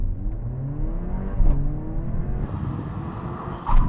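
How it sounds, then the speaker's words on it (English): An older Mercedes-AMG A45 accelerates hard from a standstill toward 50 mph, its engine note climbing steadily through the gears, loud and close with no talking. "I'm going to accelerate up to 50 miles an hour, then do a full emergency stop"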